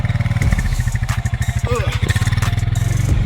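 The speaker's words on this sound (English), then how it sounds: "I am riding a four-wheeler with 2 mattresses under me" A four-wheeler ATV engine runs steadily at night while riding, with a low rhythmic chugging and a brief higher whine midway, close and continuous under a voice.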